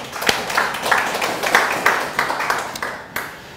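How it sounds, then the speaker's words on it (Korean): A church congregation clapping during a Sunday worship service, a dense patter of hands rising in a few swelling bursts across a few seconds, moderately loud and close. "하나님께 영광의 박수를"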